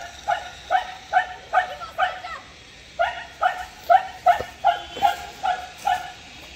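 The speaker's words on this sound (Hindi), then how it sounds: "डोगी भौंक रही है बहुत ज्यादा, बहुत ज्यादा भौंक रही है" A pet dog barks over and over in rapid, evenly spaced yips, loud and close, with a brief pause partway through before the barking resumes.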